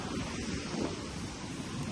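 Sea waves wash in a steady broad roar, mixed with wind buffeting the microphone, no voices.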